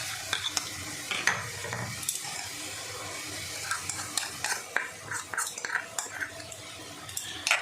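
Ground cumin and other spices sizzle in a frying pan over sautéed ginger, garlic and onion while a spoon stirs and scrapes, a steady crackling hiss broken by repeated close metallic clinks.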